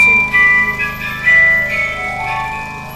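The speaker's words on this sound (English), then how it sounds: "It's just an ice cream van." An ice cream van's tinkling melodic jingle plays loud and close, with chiming notes ringing out over a murky background for the whole stretch.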